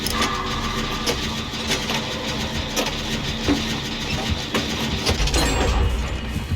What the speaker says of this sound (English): I drop it and then pick it up and rev it again